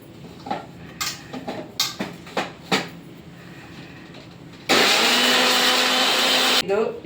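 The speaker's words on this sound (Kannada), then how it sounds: "ಮಿಕ್ಸಿಗೆ ತಿರುಗಲಿಕ್ಕೆ ಹಾಕ್ತಾ ಇದ್ದೇನೆ ಪಪ್ಪಾಯಿ ಹಣ್ಣನ್ನು" Several sharp knocks and clunks come first as papaya goes into a mixer grinder jar. Then the motor kicks in with a loud, steady grinding whirr for about two seconds before cutting off.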